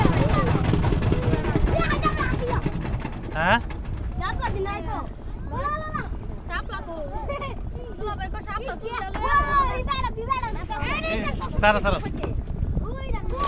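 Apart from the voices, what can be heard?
boat moving on a river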